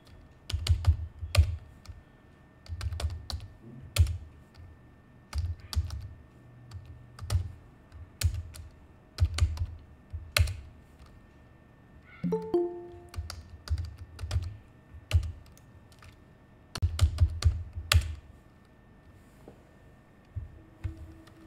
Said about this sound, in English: I will type 5 names.